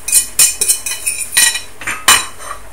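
Vegetables tipped into a pan of quinoa paella with utensil clatter, several sharp metallic clinks and scrapes of stirring against the pan, fairly close and loud, with no voices.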